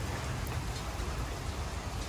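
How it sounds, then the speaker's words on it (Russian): Steady rain with large drops falls outdoors, an even, dense patter and hiss with no voices. "а там дождь. Крупные капли, как птичий помет."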